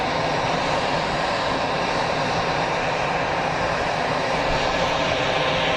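Jet aircraft at Geneva Airport produce a steady, loud, broadband engine roar that holds constant throughout, with no speech.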